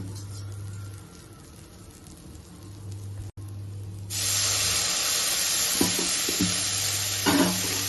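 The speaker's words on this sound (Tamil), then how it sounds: "கொஞ்சமாக ஒரே ஒரு ஸ்பூன் தண்ணி தெளிக்கிறேன்" A spoonful of water is sprinkled onto broccoli and potatoes frying in a pan. After a few seconds of quiet it bursts into a loud, sustained hiss and sizzle, with a few stirring scrapes.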